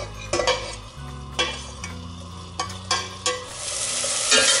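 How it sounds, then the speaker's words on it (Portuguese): Three minced medium garlic cloves sizzle softly in olive oil for a brown rice dish, with a few spoon scrapes and stirs breaking through the steady frying hiss. "eu vou dourar um pouquinho o alho"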